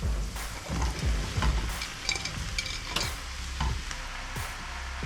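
Mushrooms hit a hot frying pan and sizzle steadily, with repeated scraping stirs and clinks of a utensil against the pan throughout.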